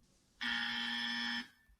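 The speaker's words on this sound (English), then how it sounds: "you will hear a buzzer that sounds like this" A quiz timer buzzer sounds once, a steady harsh electronic tone held for about a second, loud and alone.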